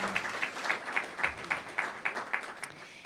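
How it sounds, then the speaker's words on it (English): Applause from an audience at a mayoral forum in Providence, Rhode Island: about ten evenly spaced clap-like bursts over three seconds, fairly faint and distant, with no voices. "Applause, please."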